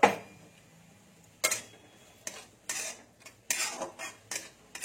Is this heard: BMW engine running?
no